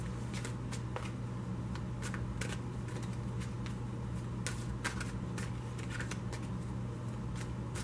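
A tarot deck being shuffled: quick, crisp papery flicks and riffles come in bursts over a steady low hum, close by, with no talking.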